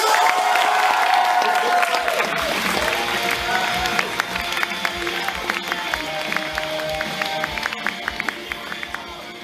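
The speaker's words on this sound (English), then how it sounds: "give a big round of applause for Franz!" A comedy club audience applauds and cheers as a comedian is brought onstage, with dense clapping filling the room at steady loudness and a crowd murmur mixed in throughout.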